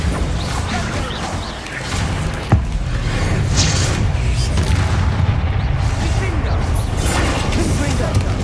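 Bombarda spell explosions from the Hogwarts Legacy video game, a dense, continuous roar of blasts and crashes with one sharp impact near the middle, over a rumbling low end, with faint voice behind.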